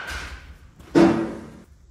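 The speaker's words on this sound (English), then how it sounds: "Tan bat sounds like this." A tan USSSA baseball bat hits a ball in one close, solid crack with a brief ringing tone that fades within about half a second.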